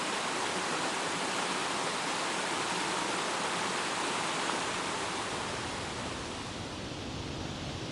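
A rough mountain creek on a hillside rushes and churns in a dense, unbroken roar of flowing water, steady and fairly distant, with no voices.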